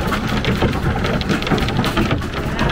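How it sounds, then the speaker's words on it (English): Dense, constant pattering of hailstones striking a hard surface, loud and close, a continuous rattling roar with no pauses. "We are stuck in the hailstorm."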